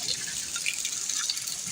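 Rainwater from the street runs into a house along a wall, making a steady, close, hissing trickle with a slight splashing texture and no voices over it.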